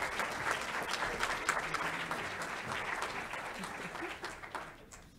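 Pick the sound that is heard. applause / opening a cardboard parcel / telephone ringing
applause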